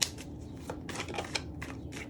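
Tarot cards are shuffled and handled up close in a series of quick, papery riffles and soft slaps in uneven bursts.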